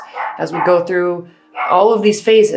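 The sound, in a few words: dog barking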